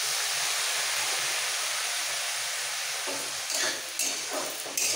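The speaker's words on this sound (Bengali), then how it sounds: "আবার ঢাকাটা তুলে মাঝে মাঝে একটু নাড়াচাড়া দিয়ে নিতে হবে, স্টিমেই সেদ্ধ হয়ে যাবে।" Potatoes and green beans steaming and frying in a covered pan, a dense even sizzle that thins out midway as stirring scrapes and clinks come through, close by and without any talking.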